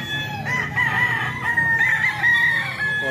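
Banded chickens in San Jose del Monte, Bulacan, with a rooster crowing in a long, loud, drawn-out call over a steady background of clucking and farmyard noise.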